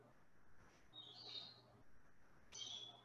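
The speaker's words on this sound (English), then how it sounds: "Are my birds chirping?" Pet birds indoors give two faint high chirps about a second apart over a low steady room hum.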